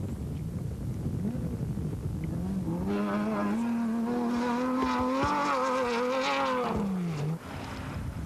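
A T3 Schlesser Special rally raid car with a Seat V6 engine pulls away at the 1997 Tunisia rally, its engine rising from idle into a sustained loud revving roar for several seconds before dropping off, close by, with no talk.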